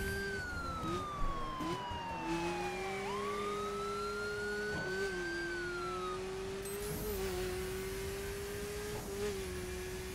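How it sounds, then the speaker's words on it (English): A police car siren in the video game The Crew wails continuously over a revving car engine, the pitch sweeping up and down steadily and loud throughout. "Maybe if I have the sirens on, I'll go faster."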